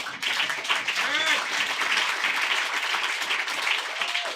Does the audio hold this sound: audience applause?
yes